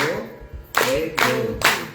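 Hand claps ring out three times in a steady rhythm during a devotional kirtan class singing Hori Rasiya, each clap sharp and close after a faint lead-in of a singing voice.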